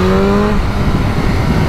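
A BMW M1000R motorcycle pulls away from very low revs in third gear, a loud, dense engine roar that climbs steadily in pitch across the whole short stretch, with no voices.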